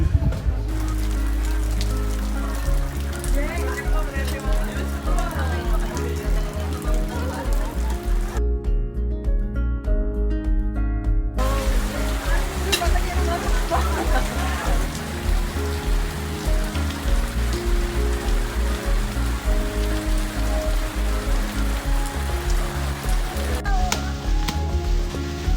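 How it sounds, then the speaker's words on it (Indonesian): Steady rain pouring outside a cafe in Bandung, a dense continuous hiss of drops on surfaces that stays loud throughout, with a brief pause partway through. "Tidak lama terus hujan."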